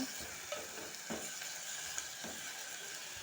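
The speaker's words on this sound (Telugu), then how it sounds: "ఇలా మొత్తం కలిపేయాలి. టోటల్గా మొత్తం టమాటా అంతా దగ్గరకు వచ్చేదాకా కలిపేయాలన్నమాట." Eggplant and tomato curry being stirred in a pan, the spoon scraping and turning the vegetables over a steady low sizzle, with soft intermittent strokes and no voices.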